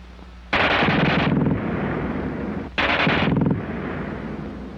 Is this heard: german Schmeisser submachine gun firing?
yes